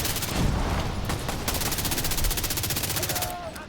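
Rapid automatic gunfire from The Division 2 rattles in a dense, loud burst of repeated shots, close and continuous, fading slightly near the end.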